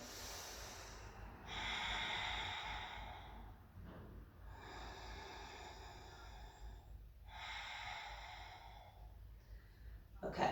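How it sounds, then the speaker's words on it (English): Long, deep breaths drawn in and pushed out through the nose during a kundalini yoga posture. The breaths are slow, close and fairly loud, with about three drawn-out breath cycles and short pauses between them. "Breath is long and deep."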